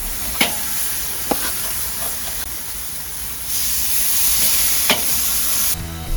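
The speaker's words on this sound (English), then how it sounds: "Have a listen for that satisfying sizzle." Steady loud sizzling hiss of steak searing on a barbecue directly over hot coals, with a few sharp crackles and pops, close up and continuous.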